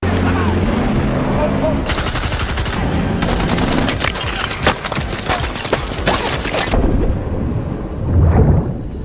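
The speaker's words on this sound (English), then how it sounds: "the Russian troops continued to fire at them until Devon was hit by a bullet" Gunfire from an action movie battle as Russian troops shoot at a swimmer near a submarine, dense rapid bursts of shots over loud rumbling background effects, heavy and continuous through most of the scene before easing near the end.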